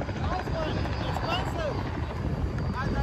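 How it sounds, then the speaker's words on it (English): A small drone flies overhead on open water during a pedal kayak outing, its steady buzzing hum carried on wind noise, with a faint pitch rising and falling as it moves, heard continuously for a few seconds. "Hey, look it, that's my new drone up there."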